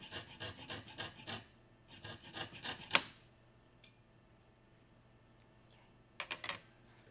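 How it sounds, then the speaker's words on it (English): A hand saw cuts through a metal ring shank in quick rasping bursts of short strokes, with a sharp click, then quiet pauses and a last brief flurry of strokes. "And now I'm going to cut with my saw."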